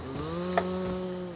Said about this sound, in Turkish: Süpürge.